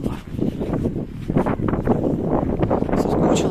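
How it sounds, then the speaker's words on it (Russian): Strong cold winter wind outdoors in Magadan in January, buffeting the microphone in loud, gusty rumbles that rise and fall continuously without pause. "Я до моря не могу дойти, потому что очень сильный ветер."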